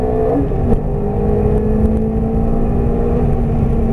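A Ferrari F430 accelerates on a race circuit, its engine holding a loud, steady drone close by for the whole stretch, without a break in the tone.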